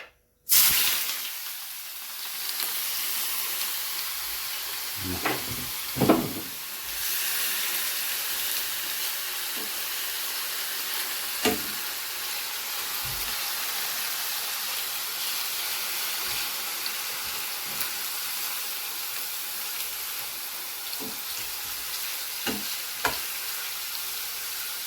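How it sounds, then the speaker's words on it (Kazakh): Potato pieces frying in hot oil at home, a continuous bright hiss and crackle that holds steady throughout, with occasional clinks and stirring sounds and no talk. "Қазір майға қуыратын боламыз"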